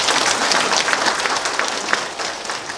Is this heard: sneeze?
no